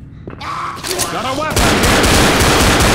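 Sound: gunshots in Left 4 Dead video game

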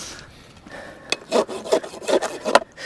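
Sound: farrier filing a horse hoof with an old rasp

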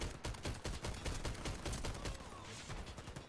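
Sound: gunfire from an engineer in the video game Warface

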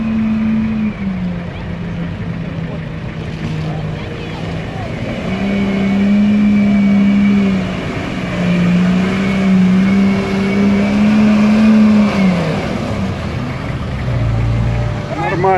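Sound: GAZ-66 Shishiga–Dodge hybrid truck driving

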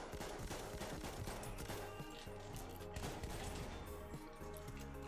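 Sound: shotgun fire in the Battlefield 1 video game

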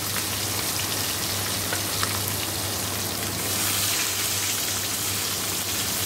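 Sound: chicken frying in a pan

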